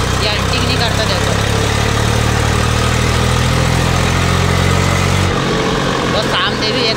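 An Eicher 380 Super DI tractor engine runs steadily at idle: a loud, close, even low drone with no surging, and voices speak over it before the hum shifts near the end.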